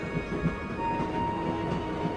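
Train ride in the Broken Sword: Shadow of the Templars video game, a steady rumbling rail noise with faint rhythmic clatter and a thin sustained tone.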